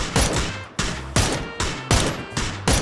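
Gunfire in the battle royale game PUBG: a steady series of about seven loud, sharp rifle shots, evenly spaced, each with a trailing echo and decay, close and dominant.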